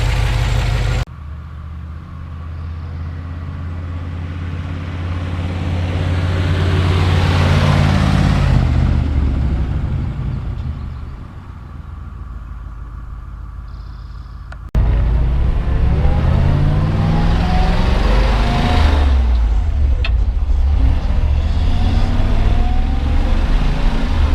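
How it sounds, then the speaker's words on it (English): A 1960 Ford F100 pickup with a 292 V8 and four-speed drives along. Its engine rumbles steadily up through the gears, swelling and easing, then cuts to a different steady cruise, loud and close, with no talk. "Thanks for cruising around with me in the 60 Ford."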